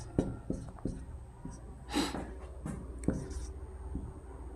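Marker or chalk writing out names on a board: a few sharp taps and short scratchy strokes spread irregularly over several seconds, fairly quiet in a room, with a breathy scrape midway.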